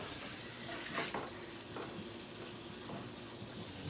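Beef for an English breakfast fries in a pan with a soft, steady sizzle and a brief louder crackle as a piece is turned over, faint and close, with no talking.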